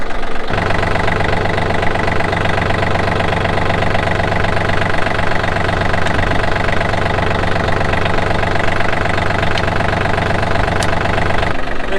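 A heavy, old tractor engine idles steadily and loudly up close, a continuous low rumble with a rhythmic knocking chug throughout, no voices.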